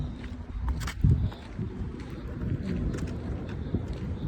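Steady seaside wind at night rushing and buffeting the microphone, a low continuous roar with occasional gusts.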